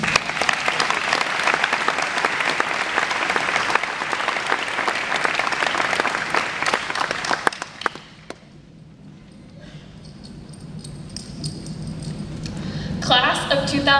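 Audience applause fills a graduation ceremony hall as the 2014 class valedictorian is welcomed to the podium, a dense steady clapping for about eight seconds before fading into quieter room noise with some shuffling and brief talk.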